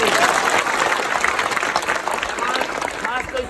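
Applause for a school at an outdoor gathering, a crowd clapping steadily throughout at moderate loudness, with voices talking over the clapping.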